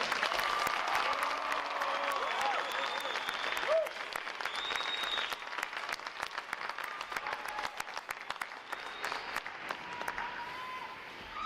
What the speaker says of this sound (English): How about a round of applause for their outstanding?